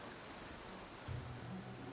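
Steady rain hisses evenly throughout in the video game Genshin Impact, with a soft low rumble joining partway through; no voices are heard.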